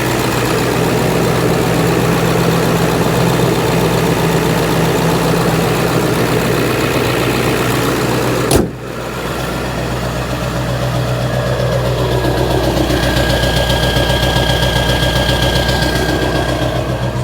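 A 2001 Ford Excursion with a 7.3L Powerstroke diesel runs steadily at high idle to warm up, a close, loud, continuous clattering diesel drone with a brief sharp knock partway through.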